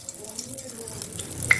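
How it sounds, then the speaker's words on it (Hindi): Chickpea koftas shallow frying in hot oil, a soft steady sizzle with faint crackles and a small pop near the end, heard briefly without talk. "इनको मैंने शैलो फ्राई कर रही हूँ, मैं डीप फ्राई नहीं कर रही हूँ।"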